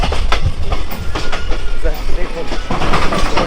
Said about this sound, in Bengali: আমাদের ট্রেনটা বের হয়ে যাচ্ছে প্ল্যাটফর্ম থেকে স্টেশন থেকে আর এদিকে আরেকটা ট্রেন ঢুকতেছে